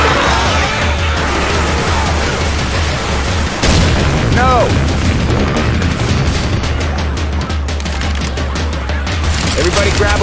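Fire bomb going off in Left 4 Dead 2, a loud burst of booming blasts and crackling fire layered with rapid gunfire, while players shout over the chaos.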